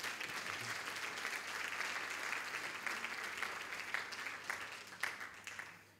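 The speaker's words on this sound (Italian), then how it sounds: "Ho sentito l'applauso partire o ho capito male io?" Steady audience applause at an art presentation for a painter and sculptor, a dense wash of many hands clapping at moderate distance that holds through and begins to thin near the end.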